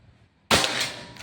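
A single sharp shot from a Bocap Pajero Gen 6 air gun during an accuracy test in Banten, Java, bursting loudly after a quiet moment and trailing off with a brief ring.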